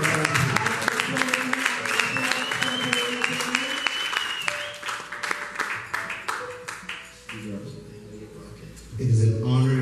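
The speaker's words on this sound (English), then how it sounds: "Give a round of applause to the Lord Jesus Christ." Church congregation at a youth revival applauding, with sustained clapping under music and a held tone, fading toward the end as a voice returns loudly.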